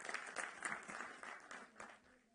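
An audience applauds the Chief Minister at a public event in Delhi, a dense patter of clapping fairly far off that slowly fades.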